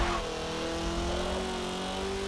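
Car engine in the video game Forza 7 holding a loud, steady drone with a slight rising pitch, close and continuous with no voices.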